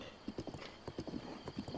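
Horse hooves clip-clop at a steady gallop in Zelda: Breath of the Wild, a quick, even run of soft thuds heard fairly quietly, with a brief whinny-like tone mixed in and no talking.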